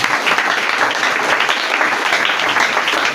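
A church congregation at a Sunday worship service gives dense, steady applause, many hands clapping loudly and continuously with no break throughout.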